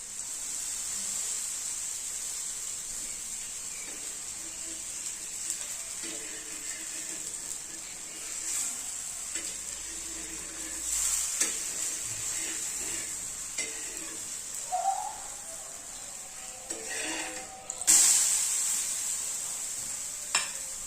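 Small besan flatbreads frying in oil on a pan, a steady close sizzle and hiss that runs throughout at moderate level, with a few faint utensil touches and a brief louder flare near the end.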